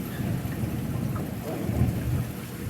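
Thunder rumbles low and steadily during a rainstorm, with rain falling throughout and the rumble swelling slightly near the end; no talking.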